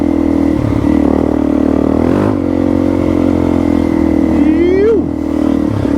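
A Suzuki DRZ400E dirt bike engine on a trail ride, a loud close steady drone that rises briefly as the throttle opens, with the rider talking over it.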